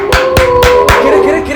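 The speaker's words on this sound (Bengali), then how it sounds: "এ হাততালি।" Hand clapping at a lively Bengali public event, four sharp, loud claps in a quick uneven run close by, with a tonal hum beneath.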